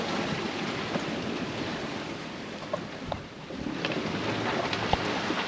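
Atlantic ocean swell and wind-driven sea wash around a sailboat on an open-water crossing, a steady broad hiss and rush of water with a few soft splashes, fairly loud and continuous.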